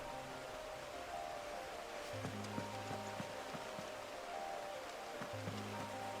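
Flowing water murmurs softly and continuously in a video game, a faint steady wash beneath tonal background music.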